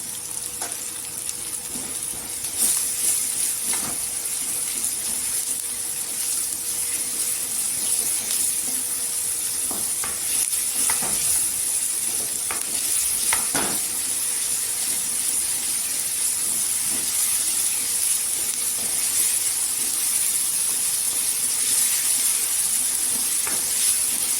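Onion with ginger and garlic sautéing in hot oil for a village-style brinjal curry, a continuous hiss and sizzle throughout, with occasional soft scraping clicks of a spoon stirring the pan nearby.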